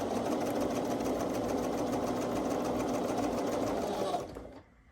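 A sewing machine runs steadily while stitching quilt blocks together along a quarter-inch seam, a close, fast, even whirring hum that keeps going before stopping abruptly near the end.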